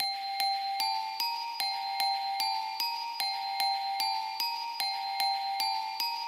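A glockenspiel from the Purity plugin plays a steady, evenly spaced run of bright metallic notes. Each strike rings clear and bell-like at a moderate level, with no voices.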